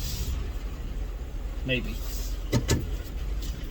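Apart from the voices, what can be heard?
street traffic passing by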